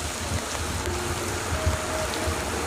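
Flood water flows through a flooded parking area carrying debris, a low steady rushing with faint burbling, moderately quiet and continuous.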